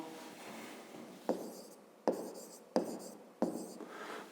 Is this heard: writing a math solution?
yes